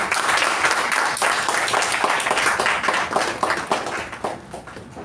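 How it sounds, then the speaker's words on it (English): Audience at a Toastmasters club installation ceremony breaks into dense, loud applause that stays continuous and full for the whole stretch, easing only slightly near the end. "I would like to welcome with a huge round of applause the president of MECON Communication Club, Toastmaster Ujwal."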